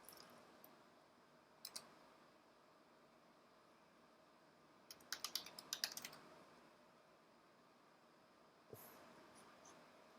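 Someone enters a root password on a computer keyboard in a quiet room: a few faint, isolated clicks, then a short, quick burst of keystrokes, then a final tap.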